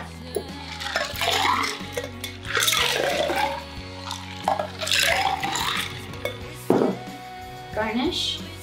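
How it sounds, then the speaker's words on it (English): A Bucked Up and Red Bull mixed drink is shaken in bursts, with liquid sloshing and ice or glass clinking in a rhythmic pattern, up close, with a few brief pauses between shakes. "Give that a good shake."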